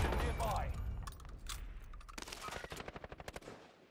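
Automatic gunfire in the battle royale game Warzone, scattered shots giving way to a rapid, evenly spaced burst, with a voice speaking over the opening moments.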